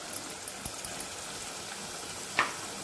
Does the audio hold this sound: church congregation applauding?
no